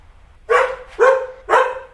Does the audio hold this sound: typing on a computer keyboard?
no